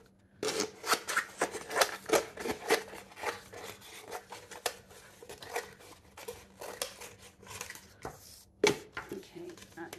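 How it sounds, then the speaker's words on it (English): Scissors trimming excess material from a cheap dollar-store Christmas craft, a steady run of close, crisp snipping and rustling cuts with brief pauses and some handling noise. "we're going to trim all this excess off"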